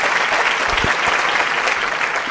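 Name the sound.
audience applause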